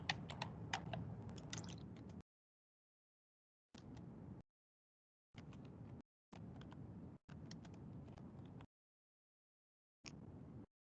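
Keys clatter on a computer keyboard during Excel data entry, quiet bursts of rapid typing separated by silent pauses.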